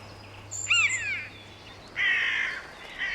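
Carrion crows caw outdoors, first a harsh double call then a longer raspy caw and a final fainter one, moderately close over a quiet background.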